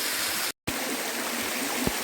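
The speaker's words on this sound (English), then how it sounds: "When you get to the bottom of the waterfall" Rushing water from a waterfall and stream at Chew Brook in the Peak District, a steady broadband roar heard close by that cuts out briefly to silence near the start and then resumes.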